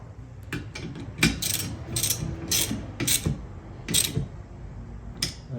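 A hand ratchet tightens the bolt on a windshield wiper arm, giving several short bursts of quick metallic clicking with brief pauses between strokes, close and fairly clear.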